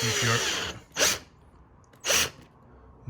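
Two short bursts of a power drill driving a screw into a UPVC patio door, each about a quarter second, after a brief mumble of speech at the start.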